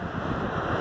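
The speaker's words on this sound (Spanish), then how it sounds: "Hay mucho viento." Strong wind buffeting the microphone outdoors on a road near a port, a steady dense roar with no voices.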